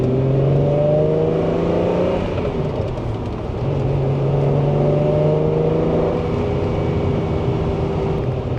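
A Ferrari Testarossa's engine pulls hard while driving, a loud, continuous droning roar with rising and falling tones as it accelerates, heard from inside the car without any talk.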